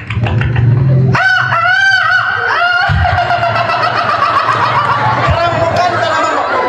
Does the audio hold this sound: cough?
no